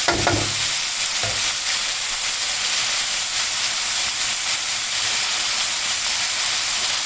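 Korean spicy pork belly stir-fries in a hot pan with a loud, continuous sizzle and hiss, broken by a couple of brief scraping knocks near the start.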